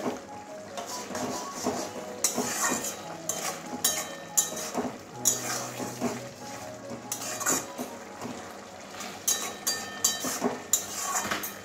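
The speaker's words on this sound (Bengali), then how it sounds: "ভালো করে মিশিয়ে দিচ্ছি ধনে পাতার সঙ্গে" A spoon stirs prawn and water spinach curry with fresh coriander leaves in a pan, making repeated metallic clinks and scrapes in an uneven rhythm, moderately close.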